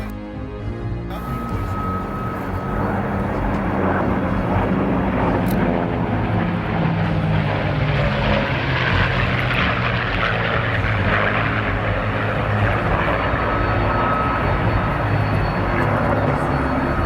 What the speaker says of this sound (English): the Spitfire, the Mark 9, the North American Mustang, the P-51 and the Corsair